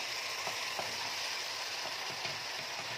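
Onions frying in a pan beside street-cart style sausage, a dense, even hiss of sizzling oil throughout with faint soft ticks and pops, steady and moderately close, no voices.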